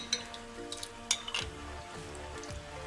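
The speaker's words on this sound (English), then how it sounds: "So you keep on stirring it." Hot lemongrass oil is stirred in a pot, a faint simmering sizzle beneath intermittent metallic clinks and scrapes of a spoon against the pot, quiet and close.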